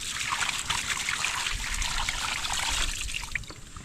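Steady water trickling and splashing from an irrigation pipe into a rice field, close and continuous with a low rumble beneath, no voices.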